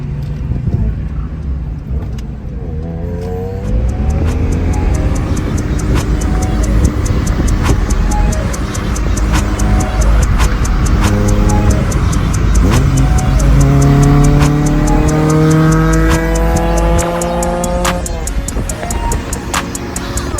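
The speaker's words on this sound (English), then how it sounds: "I'm gonna have him hop in the car and Drive around" A 35-year-old Honda car drives around, its engine note rising and falling through several gear changes, heard continuously and fairly loud for about twenty seconds with a brief quieter start.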